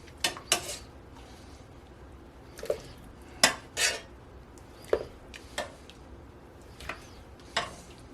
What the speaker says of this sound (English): I'm going to take a spoon and remove the potatoes. Put them in this bowl.